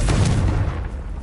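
A Confringo fire spell blast in the Hogwarts Legacy video game, a single heavy booming explosion with a deep rumble that decays over about a second, no speech.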